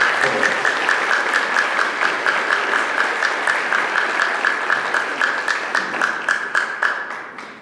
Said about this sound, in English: can we give an extra round of applause for Mel and Cole?